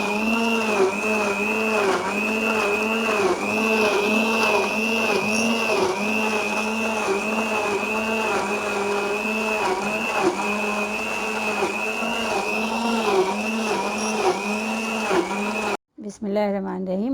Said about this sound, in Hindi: अब इसको हम ग्राइंड कर लेंगे।